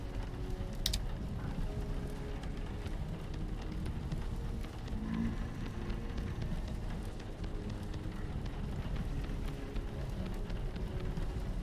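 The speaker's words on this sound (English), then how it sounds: "The sound of the rain looks nice." Steady rain falling in the video game Vintage Story, a continuous soft patter of drops on surfaces that holds at an even level with no talk.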